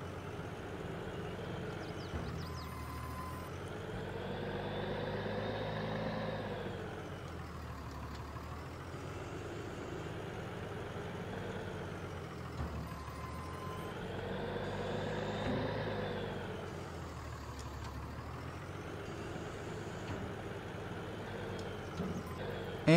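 Simulated snow plow truck engine in Farming Simulator 22, clearing an office building parking lot; a steady diesel drone that rises and falls in waves as the truck works back and forth, with no talk.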